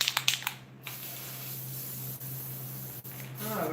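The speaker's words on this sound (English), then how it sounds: "I was spray painting these horns pink" Spray paint hissing from an aerosol can as horns are coated pink, a steady close hiss running for several seconds after a few short bursts at the start.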